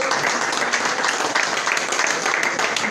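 Church congregation applauding during a sermon, a continuous wash of many clapping hands at moderate loudness, sustained without breaks.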